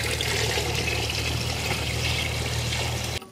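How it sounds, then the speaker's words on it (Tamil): Steady pouring of water into a chicken biryani pot, a continuous close splashing stream that stops abruptly at the end. "ரம்ஜான் பிரியாணிக்கு தேவையான அளவு தண்ணி ஊத்திக்கலாங்க"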